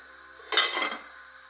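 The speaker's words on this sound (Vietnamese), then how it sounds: "Cho mình đậy nắp lại cho nó mau sôi." A lid goes onto a cooking pot of potato soup in a home kitchen, making a single brief metallic clatter and clink that rings out alone over a quiet background hum.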